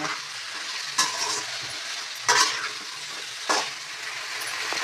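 Ivy gourd pieces sauté in hot oil for a gravy, a continuous sizzle broken by three louder bursts of spatula stirring against the pan.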